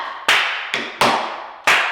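Tap dance flap steps in an Astaire-style technique class: four sharp, loud percussive strikes, two close together, then a pause, then two more, each ringing briefly before fading, with no talking.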